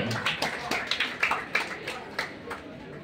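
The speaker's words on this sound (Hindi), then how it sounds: "तालियां जोरदार जोर।" An audience at an education fest applauds a person called up front, with a run of distinct, fairly sharp claps that thin out toward the end.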